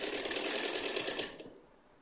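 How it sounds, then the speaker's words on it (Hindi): Sewing machine running a second line of stitching along a dress neckline, a fast steady whirring rattle that carries for over a second, then stops, leaving faint room noise. "नेक की मैं दूसरी सिलाई लगा रही हूँ"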